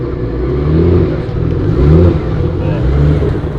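A car's engine turns over and revs in low rumbling pulses, rising and falling close by over steady engine noise, with voices talking over it.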